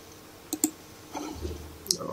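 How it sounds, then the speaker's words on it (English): Two quick, crisp mouse clicks while saving a file in AutoCAD, followed by faint desk handling noise and a soft later click, close and quiet. "then click on save"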